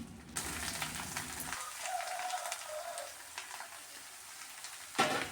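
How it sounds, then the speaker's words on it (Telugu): Chopped ridge gourd frying in hot oil with onions for a chana dal curry, giving a continuous close crackling sizzle, with a clatter as pieces are added and a stir near the end. "ఫ్రై అయిన తర్వాత ఇందులోకి మనం కట్ చేసి ఉంచుకున్న బీరకాయలన్నిటిని వేసుకోవాలి"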